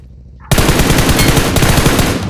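Automatic gunfire in a battle royale game on a phone bursts in after half a second of near silence. It then continues as a loud, rapid, close stream of shots to the end.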